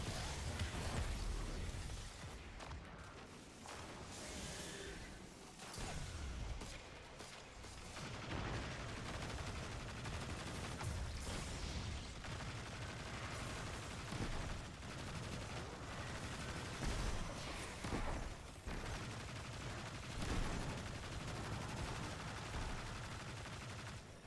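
Sustained gunfire from the Destiny 2 video game, with dense rapid bursts, explosions and sharp shots rolling continuously at a loud, steady level throughout.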